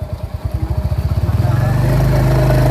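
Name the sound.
Royal Enfield Hunter 350 motorcycle engine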